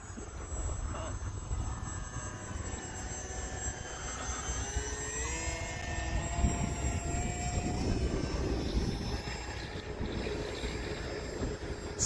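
HobbyZone Aeroscout S 1.1m radio-controlled airplane flying, its electric motor whining in rising and falling tones as it passes at a distance over steady background wind.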